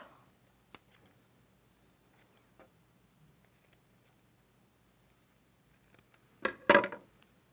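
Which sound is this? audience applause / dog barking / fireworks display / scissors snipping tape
scissors snipping tape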